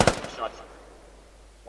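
A single sharp rifle shot in the tactical shooter game Squad rings out with a trailing echo that fades, and a second shot starts just at the end.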